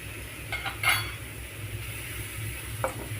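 A spoon stirring onion with ground coconut, cumin and green chili in a pan for plantain poriyal, giving a few metallic clinks and scrapes over a faint, steady sizzle, with no voices.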